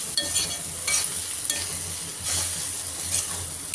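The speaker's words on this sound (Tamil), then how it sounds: "போட்டு நல்லா வதக்கணும் நல்லா அந்த எண்ணெயில் வதக்கணும்" Onion and spices sautéing in hot oil in a pan for paruppu urundai kulambu, lentil ball curry; a steady sizzle with repeated scraping stirs of a spatula, close and alone.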